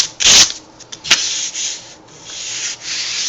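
Rough plywood being sanded by hand for a wooden Minecraft sword, close scratchy rubbing strokes, one strong stroke at the start, then a few shorter strokes and longer smooth passes.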